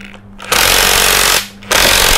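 An Akuza Japan bolt-driving hammer machine hammers loudly and close in two sustained bursts of rapid, continuous striking, with a brief pause between them and no speech.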